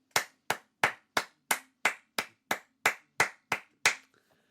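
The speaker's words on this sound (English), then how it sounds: "this is not a sarcastic clap. This is a genuine clap." One person claps hands eleven times at a steady, unhurried pace, each clap sharp and close, then stops; no talking.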